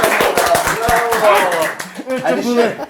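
Audience clapping at a comedy battle show, sharp hand claps bunched mostly in the opening second, then loud talking voices take over while scattered claps fade out.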